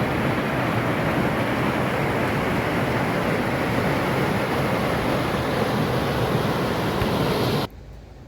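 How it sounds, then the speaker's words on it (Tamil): Steady broadband rushing of a meltwater stream running down a mountain in Ladakh, loud and constant with wind-like roar, cutting off abruptly near the end. "சூப்பராக மலையிலேருந்து தண்ணி உருண்டு ஓடுது."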